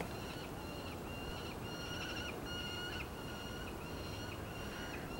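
A loud bird squawks from across the way, a repeated series of harsh, sustained calls in a steady rhythm over a faint outdoor background hiss.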